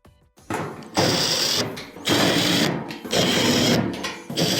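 Screw being driven in by a power driver while reinstalling a part on a washing machine under repair: several close whirring bursts with brief pauses between them.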